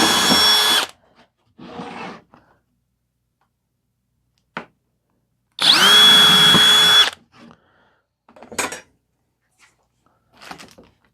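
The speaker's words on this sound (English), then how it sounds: "Because I have to pre-drill those first." Bursts of a power drill pre-drilling soft wood, a short burst, then a longer loud run, with scattered knocks and handling clatter between them.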